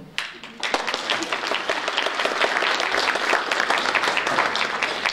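A seated audience claps at a speech by the Governor of Sikkim, a dense, steady round of applause that starts after a brief pause and carries on loud and unbroken to the end.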